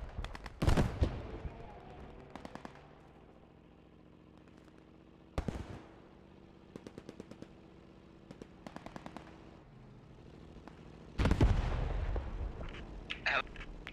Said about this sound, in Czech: Házím artilu na severovýchod.